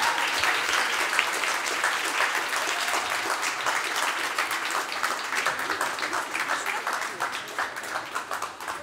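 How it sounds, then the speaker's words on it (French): An audience applauds to welcome David and Jessie Peterson at a public talk, giving dense, sustained clapping from a large crowd that holds steady throughout with a faint voice or two underneath. "Merci de bien vouloir les applaudir."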